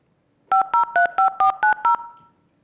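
A telephone keypad is dialed during a city council meeting, giving seven short, evenly spaced, loud touch-tone beeps in quick succession, alone in an otherwise quiet room.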